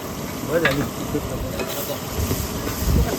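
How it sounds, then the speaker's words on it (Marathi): Country chicken curry sizzling in a pot outdoors in rainy weather, with a steady frying hiss and occasional scrapes of stirring near the mic. "पावसाळी वातावरणात हे असं गावठी कोंबड्याचं मटण इथे शिजत आहे"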